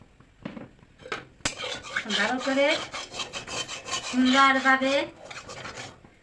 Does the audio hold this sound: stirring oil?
yes